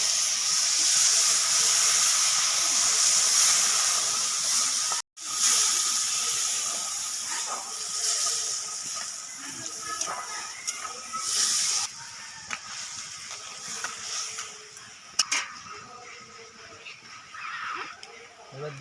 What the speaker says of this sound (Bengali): কড়াইটা লেগে যাচ্ছে, অল্প জল দিয়ে দেবো।